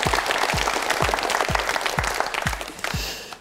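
A studio audience on a Korean television word quiz show bursts into sustained applause, joined by regular low thumping beats about twice a second, loud and close throughout.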